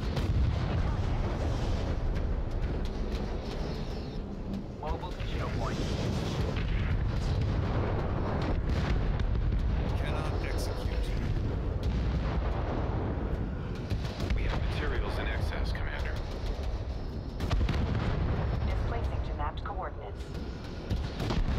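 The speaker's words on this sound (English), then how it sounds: "Our turret is taking fire." Turret under heavy artillery fire in the video game Crossfire Legion, with dense, continuous booming blasts and rumbling impacts packed throughout, loud and sustained, with a voice talking over the barrage.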